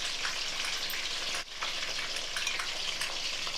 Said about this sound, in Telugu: ఇలా మనం డీప్ ఫ్రై చేసుకుంటే బాగుంటుంది